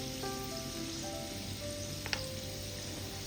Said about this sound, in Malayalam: മീഡിയം ഫ്ലെയിമിലിട്ടിട്ട് ഇതൊന്ന് ഫ്രൈ ചെയ്തെടുക്കാം.